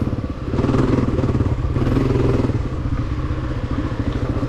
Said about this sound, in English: You can hear the bike lugging super low.